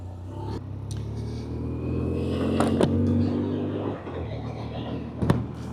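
A 2025 BMW R12 G/S motorcycle engine idles steadily close by, a low continuous rumble with a brief swell and a couple of sharp knocks, settling into an even idle.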